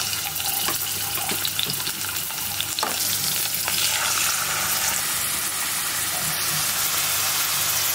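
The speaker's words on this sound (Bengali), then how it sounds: "পেঁয়াজ মরিচ ভাজা শেষ, এখন হলো লবণ, তারপরে রসুন বাটা যা আছে সব দিয়ে দিই।" Onion, chili, salt and garlic paste fry in a pan with a loud, dense, steady sizzle, punctuated by several clicks and scrapes of stirring close by.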